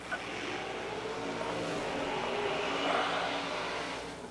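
A Camaro drag race car runs down the track at a drag racing event, a steady broadband engine roar holding at constant loudness without a break.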